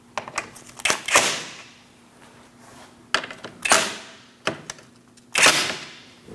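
A hand ratchet snugs up the bolts on a crankshaft position sensor of a 2000-2006 Mini Cooper 1.6L four-cylinder. Three separate bursts of quick, close, sharp metallic clicking come with gaps between them, and no one speaks.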